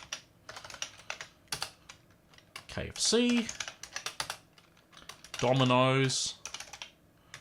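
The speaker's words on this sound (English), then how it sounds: "we can go and continue typing in our data" Computer keyboard typing while entering restaurant names into a spreadsheet, quick irregular clicks of keys spread throughout, close and clear, with someone speaking briefly twice between bursts.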